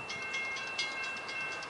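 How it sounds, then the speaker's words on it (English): A freight train passes the rail crossing at Folkston, Georgia, a steady close rumble and rolling clatter with faint rhythmic clicks and no voices. "Here comes another train."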